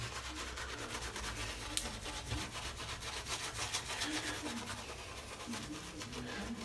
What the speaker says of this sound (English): I'm just going to go back to the soap and just gather a little bit more into the brush, and then we'll reapply to the head